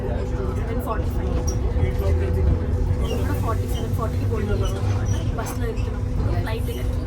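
Riding an airport boarding bus: a continuous low engine and road rumble fills the cabin, with indistinct passenger voices murmuring throughout.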